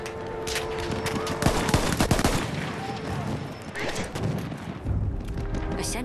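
Battlefield 1 video game gunfire rattles in rapid bursts and scattered shots, fairly loud and continuous, with someone talking over the battle.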